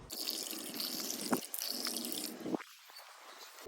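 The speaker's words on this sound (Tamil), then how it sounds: "சோ இது 3லையும் இப்போ தண்ணி பிடிக்க போறேன்." Tap water running and dripping into three plastic containers one after another, a steady splashing fill with brief pauses and a sharp knock between containers, close by with no talk.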